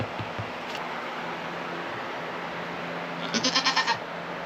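A Nigerian Dwarf goat gives one short, wavering bleat near the end, over a quiet background hiss.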